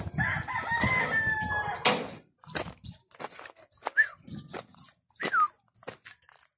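A dog barks several times in separate bursts while a rooster crows and chickens cluck nearby, outdoors by the sea.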